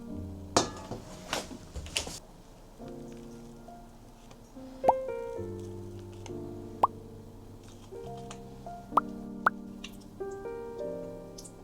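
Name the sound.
whey dripping from straining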